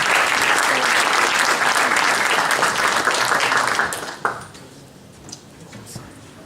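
An audience at a startup pitch competition claps for two presenters, with full sustained applause that thins out and fades to scattered claps in the last couple of seconds.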